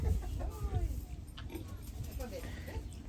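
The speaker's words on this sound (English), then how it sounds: "And look at this little chicken. It's doing her thing." A chicken at a goat farm clucks softly in short bursts amid outdoor farm ambience, with other barnyard noises and people talking nearby.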